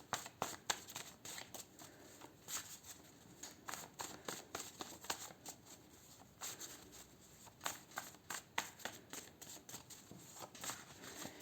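Health and lifestyle oracle cards are shuffled and pulled for a reading, giving a long run of soft riffling and slapping bursts in irregular clusters, close and fairly quiet, with no talking.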